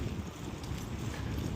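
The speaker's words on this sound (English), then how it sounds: "It's really windy" Steady wind buffets the microphone while cycling outdoors on a cold, windy day, a continuous low roar with no pauses and no talk.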